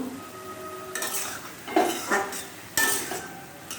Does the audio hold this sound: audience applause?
no